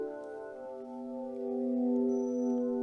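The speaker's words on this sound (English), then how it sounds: "you can take what would normally be a percussive sound like this marimba" Smooth, sustained synthesized marimba tones with a raised attack time, swelling in softly with no sharp attack, layered into a steady chord that grows slightly louder, with no voices.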